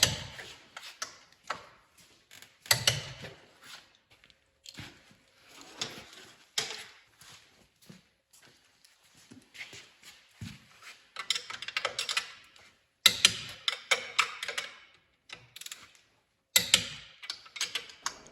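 A torque wrench tightens bolts up close, giving off irregular sharp clicks and short metallic rattles with quiet gaps between the bursts and no talk.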